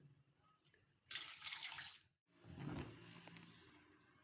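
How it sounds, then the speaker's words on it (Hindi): About two glasses of water splash into a kadhai holding carrots for murabba, a short close pour followed by a softer second splash and light trickling. "ये बस इसमें 2 गिलास पानी शामिल करूँगी"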